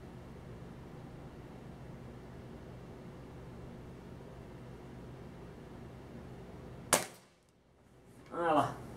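A SAG R1000 5.5 air rifle, fired during open-sight target shooting, gives one sharp, loud crack after a long stretch of quiet background hiss, followed moments later by a brief softer rustle.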